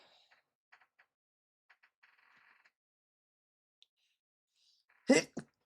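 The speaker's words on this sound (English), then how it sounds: "I'm going to sneeze." A single loud sneeze bursts out near the end, close and sharp with a quick second burst after it, following scattered faint clicks and soft sounds in a quiet room.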